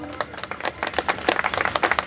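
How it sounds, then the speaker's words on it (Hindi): Audience clapping at a Periyar birth anniversary gathering in Delhi, a dense burst of hand claps building steadily over a couple of seconds, moderately loud with no talk. "जोर से बजाइए तालियां, बहुत बड़ी बात है"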